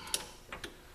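A torque wrench tightens a truck bolt to 84 foot-pounds, giving a few faint, quick metallic ticks and clicks close by in a quiet moment.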